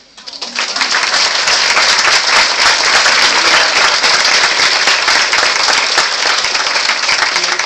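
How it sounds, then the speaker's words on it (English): Loud, sustained applause from a university lecture audience swells up within the first second and holds as a thick, even wash of clapping to the end. "He deserves a lot more than a round of applause."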